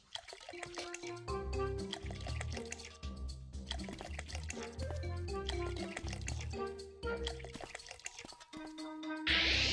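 A candy unicorn pet drinks water in the mobile game PK XD, shown as a run of playful bubbly gulping and dripping sound effects in short bursts over light game music.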